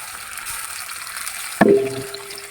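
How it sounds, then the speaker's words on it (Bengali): Chopped onion and garlic hitting hot oil in a heated wok for a shapla (water lily) stir-fry, a quiet hiss building to a sudden loud sizzle burst midway that then settles into a steady frying crackle. "এবার আমি পরিমাণ মতো একটু তেল দিয়ে দিলাম সাথে দিলাম নিজে কেটে রাখা পেঁয়াজ কুচি আর রসুন কুচি"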